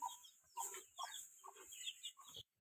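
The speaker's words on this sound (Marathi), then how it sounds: "माझ्या मागे आहे कोंबड्यांचा पिंजरा इकडे पिल्ल आहेत कोंबड्यांची" Hens and chicks in a village coop cluck close by in quick, uneven bursts for a couple of seconds, then fall silent.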